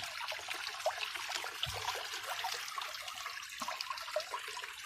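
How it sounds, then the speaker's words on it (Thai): Water gushing and splashing from a small DIY waterfall fed by a 12V 20W DC pump, a steady close trickling and pattering flow with faint bubbling, heard alone without talk. "น้ำก็จะพุ่งออกมาแบบนี้นะครับ"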